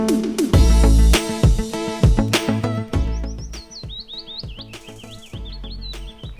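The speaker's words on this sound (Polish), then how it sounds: "Cisza, tylko ptaki słychać." Small birds chirp and trill along a quiet mountain trail in the Silesian Beskids near Skrzyczne, with clear repeated tweets over a loud regular tapping in the foreground.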